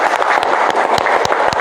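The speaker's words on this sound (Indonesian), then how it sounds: "Oke, tepuk tangan dulu semuanya." Classroom students clap together in a dense, steady patter of applause at close range, with a few sharper individual claps standing out and no voices over it.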